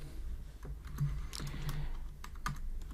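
Rapid, uneven keystrokes clatter on a computer keyboard while Java code is being entered, close and fairly quiet, arriving in short bursts and pauses without any talking.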